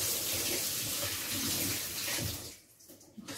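Tap water runs steadily and close into a sink for washing in a home kitchen, then cuts off, leaving a brief clatter.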